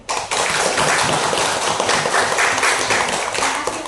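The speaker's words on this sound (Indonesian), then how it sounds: "tepuk tangan untuk kelompok terakhir" A classroom of students claps for the last group in a teaching-practice lesson: dense, sustained applause filling the whole stretch at close range.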